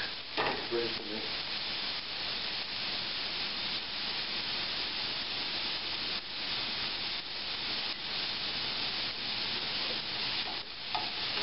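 Vegetables for a spaghetti squash medley fry and hiss in a pan, a steady sizzle under repeated scraping strokes as they are stirred and moved about, with no talking.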